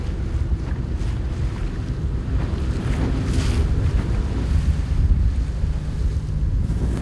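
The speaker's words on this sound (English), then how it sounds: "Going out on a wild launch, taking us across that sound to the island itself" A motor launch crossing a sound to an island gives off a continuous low engine rumble mixed with rushing water and heavy wind buffeting the microphone, steady throughout with no talking.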